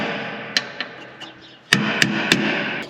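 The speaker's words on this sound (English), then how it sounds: "It likes a bit of persuasion with a hammer" Hammer tapping a tight-fitting part into a canola seeder, several sharp metallic knocks spaced irregularly, with a cluster of three close strikes near the end, heard alone.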